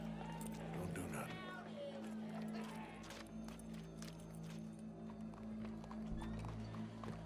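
Horse hooves clip-clop steadily in Red Dead Redemption 2, a continuous rhythmic plodding heard under a constant wash of game ambience.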